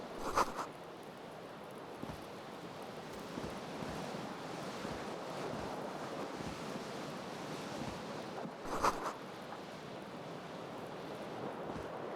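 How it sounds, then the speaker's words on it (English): A cool wind gusts steadily in from a balcony in Disco Elysium, a continuous airy rush with a couple of brief louder swells. "A cool wind gushes in."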